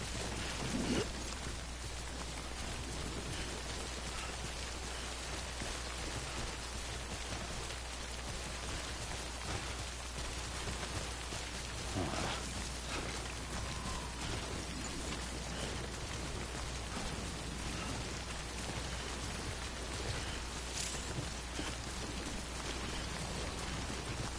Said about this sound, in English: I seem to get caught in timefall quite a bit.